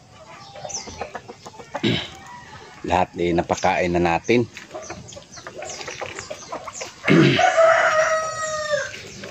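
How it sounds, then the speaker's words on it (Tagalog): Chickens clucking and a rooster crowing in a farmyard with ducks, with someone talking over them throughout. "Dito yung mga pato natin. Saka mga manok."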